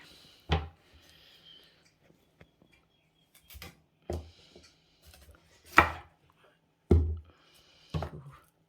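A knife chopping food on a cutting board while making a broccoli and beef stir-fry, with sparse, close, sharp thunks at irregular intervals separated by near silence.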